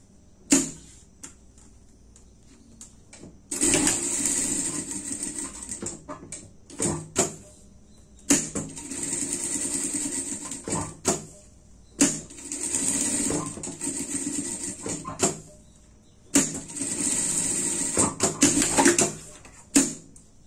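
Sewing machine stitching around a pet harness pattern, running in bursts of several seconds of steady whirring separated by short pauses and clicks.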